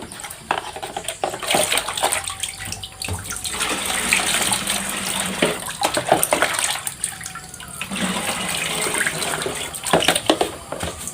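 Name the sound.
water poured over straw for cattle feed fermentation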